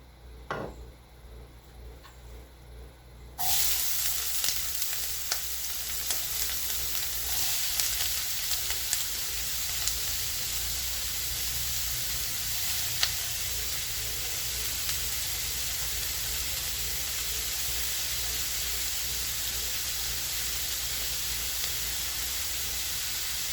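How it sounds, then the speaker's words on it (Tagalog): Onions fry in olive oil in a pan: after a quiet start, a sudden steady sizzle and hiss sets in with occasional small pops and crackles, continuous and fairly close. "let's start cooking the onions. So we add olive oil"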